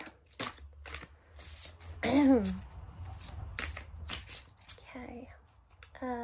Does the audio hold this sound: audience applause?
no